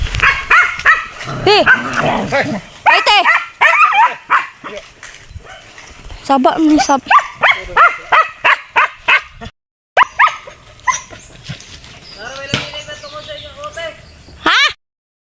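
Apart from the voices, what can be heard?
two dogs barking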